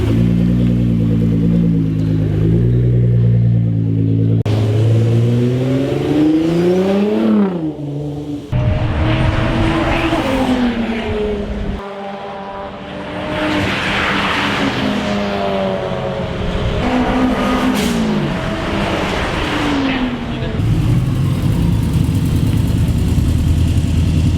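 A loud tuned Nissan R35 GT-R engine revs hard repeatedly, pitch climbing and dropping through gear-like sweeps, with brief idling dips between bursts, close by.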